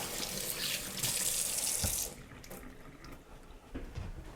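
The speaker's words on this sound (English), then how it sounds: "Being that the shrimp was in the refrigerator, it sticks together a little bit. The cold water will separate it." Cold tap water runs over refrigerated shrimp in a kitchen sink: a close, steady gushing stream for about two seconds that then cuts off, leaving faint drips and soft handling sounds.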